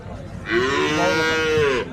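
A large cow moos once at a cattle market in Hazratpur, Keraniganj. It is a long, loud, close bellow of about a second and a half, heard alone over faint background noise.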